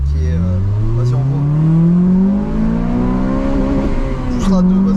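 A Honda Civic Type R with a 300 hp engine revs hard in second gear, its rising engine note climbing steadily with a brief wheelspin as the tyres break traction, then re-accelerating loudly up close; a voice talks over it.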